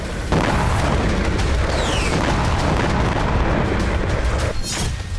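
A loud, sustained roaring blast that fills the whole clip with rumbling, distorted booming, like nearby explosions going off back to back, from Israeli army demolitions in Tulkarm, West Bank.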